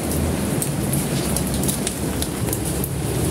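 Heavy rain pours steadily both outside and inside a leaking house, a dense, loud hiss with scattered drips and patters and no talk.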